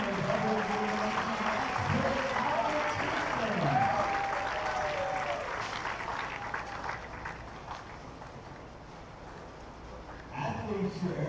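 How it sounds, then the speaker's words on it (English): Spectators applaud finalists at a junior bowling championship, a broad patter of clapping that swells early and fades toward the end, with an announcer's voice over it at the start. "All right, spectators and guests, let's give these finalists a round of applause"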